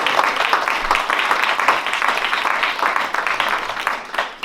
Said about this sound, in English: Please, a wonderful round of applause, Mr.